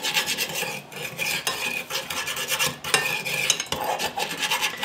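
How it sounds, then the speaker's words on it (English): Lemon juice mixture being stirred in a bowl, a continuous rasping scrape of a utensil against the bowl in uneven strokes, close and fairly loud with no talking. "I'm going to kind of stir that up just a little bit."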